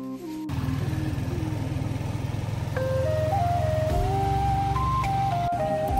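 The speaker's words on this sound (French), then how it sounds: "Là on prend un bus direction Port Barton." A bus engine drones steadily on the road to Port Barton in the Philippines, a low, throbbing hum with a melodic horn or chime tune playing over it.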